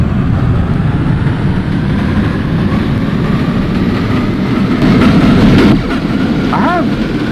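Simulated NYC Subway R142A train on the 4 line in OpenBVE, a steady loud rumble of wheels and motors running throughout, with a brief squealing tone near the end.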